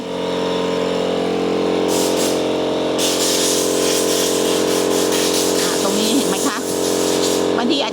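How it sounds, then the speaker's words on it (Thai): An angle grinder sands the side of a wooden pallet table being built in a vintage style inside a warehouse, making a continuous droning motor hum with scratchy abrasive texture, and a voice occasionally comes through. "อันนี้ก็ใช้ลูกหมูตกแต่ง"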